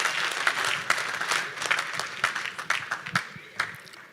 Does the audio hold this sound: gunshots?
no